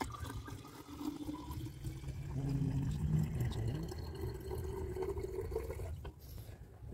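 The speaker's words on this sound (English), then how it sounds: "So we decant this one." Silver chloride solution is poured off from a beaker, giving a soft continuous trickle and slosh of liquid that swells in the middle and then fades.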